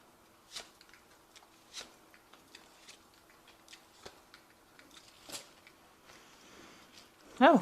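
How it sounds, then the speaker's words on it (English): Tarot card deck being shuffled, a series of soft, scattered card flicks and taps spaced through a quiet room, ending in a brief louder riffle. "I have shuffled the deck as well"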